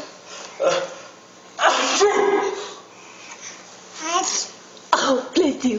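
A baby sneezes and coughs in several small bursts, close and fairly loud, with soft vocal sounds between them.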